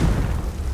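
A Confringo blasting spell goes off in Hogwarts Legacy, a short, loud, low rumbling burst that keeps thundering for under a second with no voices.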